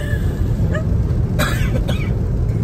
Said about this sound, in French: Et en plus, il tousse.